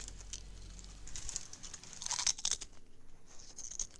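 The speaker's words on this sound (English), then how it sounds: "that's a nice crunching sound you're making there" Close crunching and crinkling, irregular crisp bursts like something being crushed or chewed, quiet and intimate, with a louder cluster midway and no talk.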